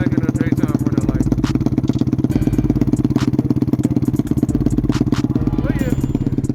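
Lifan KP Mini 300 motorcycle with a 4-valve ZS175FMN engine idles steadily up close, a loud, even low thrum with mechanical clatter running throughout, no talk over it.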